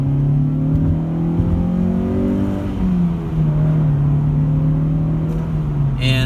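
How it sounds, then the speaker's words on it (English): A 1991 JDM Honda CR-X Si engine pulls steadily while driving, its loud, close hum rising and falling in pitch as the car accelerates and shifts, with no talking. "This is a POV drive of my 1991 CR-X"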